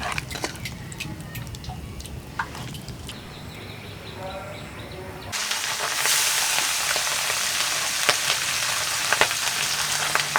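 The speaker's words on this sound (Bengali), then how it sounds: "মামি এখানে বড় মাছ রান্না করতেছে।" A big fish fries in a pan in a village kitchen. A loud, steady, close sizzle bursts in about halfway and continues to the end, after earlier quieter clatter and voices talking.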